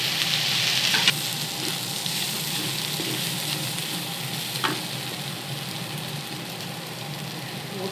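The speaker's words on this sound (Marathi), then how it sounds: "ही भेंडी आहे ना फ्राय होते तेलामध्ये" Chopped okra frying in oil in a pan makes a steady, loud, close sizzle that holds for several seconds, with a couple of sharp clicks from the pan.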